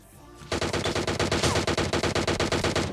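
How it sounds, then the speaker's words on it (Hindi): Rapid automatic machine gun fire in a video game bursts out after a brief quiet start, loud and steady, with evenly spaced shots rattling continuously to the end. "और तभी आती हैं गोलियां"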